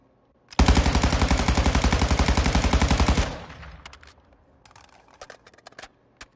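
A Cronen Squall rifle fires in Call of Duty MW2 in one sustained fast automatic burst of about three seconds, loud and close. A brief tail and a few scattered clicks follow.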